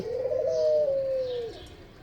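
A single drawn-out pigeon coo, low and mellow, close by and clear, with no talking.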